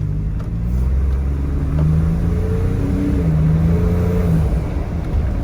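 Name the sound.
Ford F-150 Raptor turbo engine accelerating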